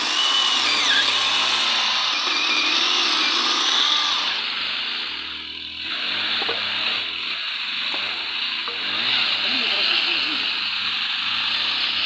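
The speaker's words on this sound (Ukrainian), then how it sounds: "а чоловік грається акумуляторною пилкою" A cordless battery-powered saw cuts firewood with a loud, steady high-pitched motor whine that runs unbroken, while voices talk over it.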